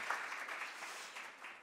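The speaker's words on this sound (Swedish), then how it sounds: "Ni var så himla snälla med applåderna" Audience applause for a guest arriving at a live Swedish podcast recording, dense steady clapping from a crowd, faint and distant throughout.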